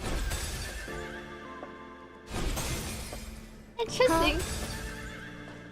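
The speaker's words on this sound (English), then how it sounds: "I can hear the sound of the horse neighing." In a video game, a horse's whinny rings out loudly near the end, after stretches of game music; a person speaks a single brief word over the soundtrack.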